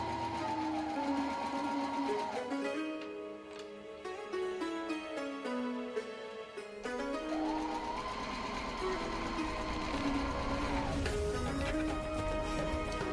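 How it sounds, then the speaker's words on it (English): A sewing machine runs steadily, putting a stay stitch along the lower part of Sharara pants made from a sari, with a continuous mechanical whir that rises and falls in speed and has a brief pause partway through. "what I'm doing is putting in place a stay stitch on the lower part of the pants"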